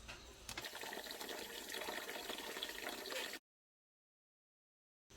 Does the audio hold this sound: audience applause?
no